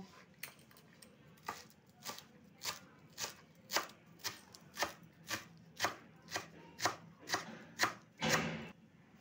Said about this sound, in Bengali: এবারে ধনে পাতাটা কুচি করে নেব।